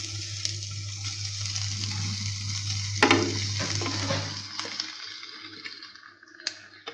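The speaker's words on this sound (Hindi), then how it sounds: "चम्मच से ही हम इसे तमाम वेजिटेबल्स के साथ अच्छे से मिक्स कर लेंगे" A spoon stirs boiled chopped potatoes into frying vegetables for a chicken samosa filling, a steady sizzle over a low hum with a cluster of scraping strokes midway, fading quieter toward the end.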